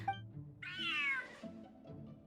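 A cat in a video game lets out a single drawn-out meow, clear and fairly close, over a faint low background hum.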